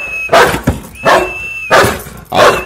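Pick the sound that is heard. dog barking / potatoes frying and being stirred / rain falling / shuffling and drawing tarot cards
dog barking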